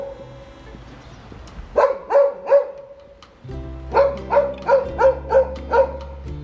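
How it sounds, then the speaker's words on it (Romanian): A small dog barks on a Bucharest street lined with magnolias: three sharp barks, a short pause, then a rapid run of six more, fairly close over a low steady background hum. "cățel, de ce faci gălăgie?"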